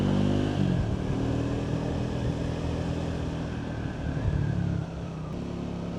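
A Triumph Speed 400 motorcycle engine drones steadily on a test ride, its low harmonic hum shifting in pitch as the revs change, with wind rush over it throughout.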